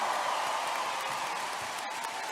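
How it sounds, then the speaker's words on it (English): Applause for dancers at an opening ceremony, a steady wash of distant clapping from a large crowd, held at an even level throughout. "How about one more big round of applause here, ladies and gentlemen, for all our Gojua dancers"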